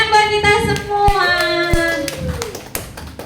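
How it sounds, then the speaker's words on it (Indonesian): A small group at a school training session gives a short round of applause, a handful of distinct sharp claps mixed with a sustained tone and some voices. "tepuk tangan buat kita semua"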